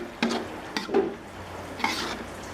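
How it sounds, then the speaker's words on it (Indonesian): Rendang spices with lime, bay and turmeric leaves are sautéed in a pan, heard as soft stirring scrapes and a faint sizzle, with a few light utensil knocks. "daun limau atau daun jeruk, daun salam, daun kunyit kita masukkan semuanya. Kita tumis hingga kecium harum."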